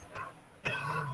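Dogs bark faintly and at a distance, a short yip followed by a louder bark that fades into room noise.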